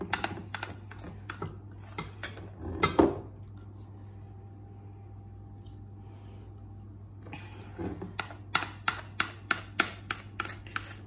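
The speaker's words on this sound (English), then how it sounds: "the sound of you scraping it off the bowl" A spoon or spatula scrapes cake mixture off a bowl in a quiet kitchen, a string of soft clinking, scraping strokes in two bursts with a near-silent pause between them.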